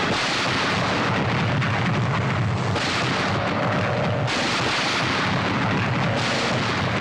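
Artillery guns firing in a 1972 Bollywood war film, a dense, continuous barrage of deep booms and blasts that fills the scene loudly from start to finish, with no pauses between rounds.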